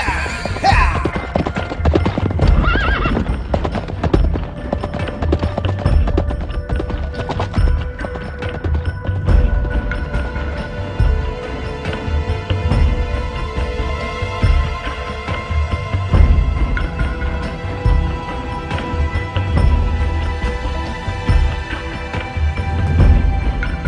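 Horses carry riders along, hooves clip-clopping in a steady rhythm with occasional neighs and whinnies, loud and close throughout against a busy, continuous background.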